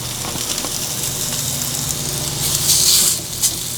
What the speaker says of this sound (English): since that bacon's going, we're gonna get a couple sausage patties down